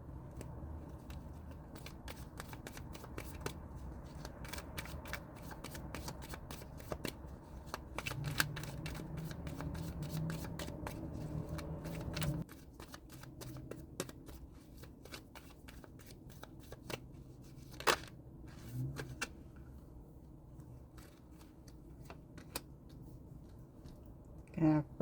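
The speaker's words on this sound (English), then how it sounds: "I will pull all our cards first, the first set, second set, and third set" Oracle cards being shuffled during a pick-a-card reading, a steady run of soft riffling and flicking snaps that continues for the whole stretch, close and moderately quiet, with no talking.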